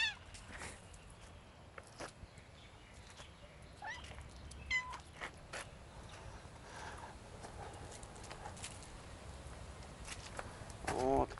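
Stray cats give a few scattered meows over a quiet outdoor background, with faint scraping and small clattering noises between the calls.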